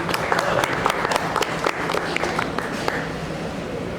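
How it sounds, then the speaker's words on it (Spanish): Audience applause welcomes a speaker at a Spanish-language talk, steady clapping with crisp individual claps running through the room, loud at first then settling a little toward the end. "Démosle un fuerte aplauso a Yunuen."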